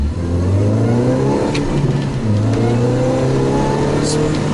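A supercharged 2004 Mini Cooper S R53 pulls hard in first gear. The loud engine revs climb steadily in pitch, heard up close from inside the car, with a brief dip partway through.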